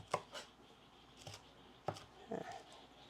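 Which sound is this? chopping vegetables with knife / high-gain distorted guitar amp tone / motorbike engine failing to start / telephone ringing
chopping vegetables with knife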